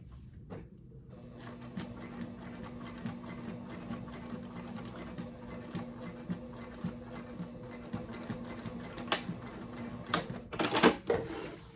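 Sewing machine stitching close along a fabric edge for a Lola bag, a steady motorized whir running almost continuously with small thumps and a brief louder burst near the end.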